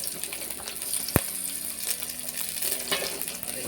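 Onion, garlic and ginger frying in a pan for palak egg curry, a steady close sizzle with a sharp clink of a utensil against the pan near the start and light stirring scrapes, no talk.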